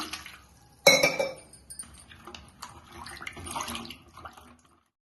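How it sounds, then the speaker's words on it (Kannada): Gooseberries are washed in a bowl of water: splashes and sloshes with light clinks of fruit and dishware, starting with a sharp splash then continuing as softer rinsing sounds. "ಫಸ್ಟ್ ನೀರು ಹಾಕಿ ತೊಳ್ಕೊಂತೀನಿ."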